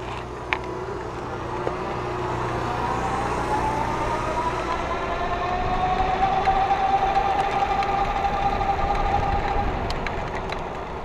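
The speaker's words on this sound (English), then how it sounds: "I'm gonna hit the throttle and show you the motor." On throttle, the hub motor of an EZ Pedaler F350 electric bike gives a thin rising electric whine that holds steady, over a constant rumble of outdoor and road noise.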